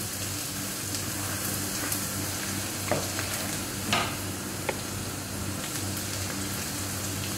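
Garlic frying in a pan already used to fry shrimp, giving a steady crackling sizzle with a few sharper pops and light scraping stirs throughout.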